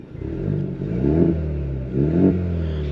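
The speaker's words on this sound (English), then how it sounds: "let's go ahead and hear this exhaust." A 2024 Ford Mustang EcoBoost 2.3L revs up twice from a throaty idle, the exhaust rising into a deep, rumbling roar before settling back, heard close by.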